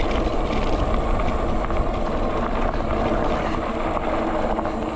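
A KKBIKE dual-suspension fat tire e-bike at speed, heard as a loud, steady roar of wind and rolling tires that holds without a break, with no talking.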